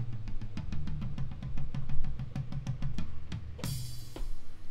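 A quick run of tom drum hits plays in a steady rhythm, dropping in pitch, then a crash cymbal splashes near the end.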